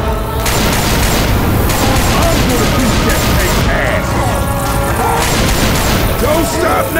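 Sustained gunfire aimed at the Tank in Left 4 Dead 2 at Dark Carnival, a loud, dense and continuous barrage of shots and booms mixed with chaotic game noise, with voices talking over it.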